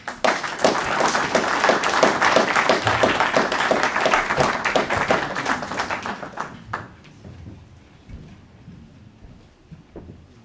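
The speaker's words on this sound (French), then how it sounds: "Je vous demande d'applaudir Nicolas Taki." An audience applauds an author at a book presentation, a loud sustained burst of clapping that gradually thins and fades over several seconds into scattered claps.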